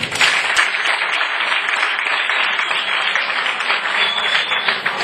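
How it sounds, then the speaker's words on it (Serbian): Loud, sustained applause from a crowd at a political coalition rally, dense continuous clapping filling the space from start to finish, with no speech over it. "ja bih zamolio, evo počet će od mene, ja vas da pozdravim jednim aplauzom"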